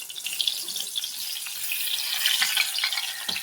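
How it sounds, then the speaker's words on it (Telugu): Spiced brinjal pieces deep fry in oil in a kadai, producing a dense, bright, continuous hissing sizzle with crackling bubbles, close and fairly loud. "కడాయిలో సరిపడా ఆయిల్ వేసుకొని ప్రతి ముక్క డీప్ ఫ్రై చేసుకోవాలి"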